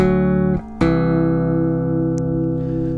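Bass guitar sounding sustained chords, a ringing low chord briefly damped before a second chord is struck and left to sustain, close and alone with no talking.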